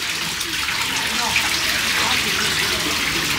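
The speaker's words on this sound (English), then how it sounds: "It's got a water feature inside." Water feature splashing and trickling inside a small stone building in Matlock Bath, a steady close wash of running water filling the space without pause.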